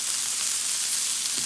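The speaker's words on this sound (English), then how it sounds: "Listen to that sizzle, Dustin Ray." Onions and burgers sizzling in grease on a Blackstone griddle, a steady, close, bright hiss of frying that carries on without pause and without talk.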